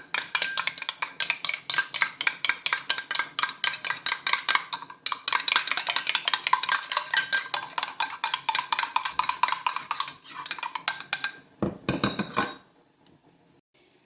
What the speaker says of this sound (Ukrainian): Сметану змішала з яйцем, додаю чайну ложку борошна, розмішую.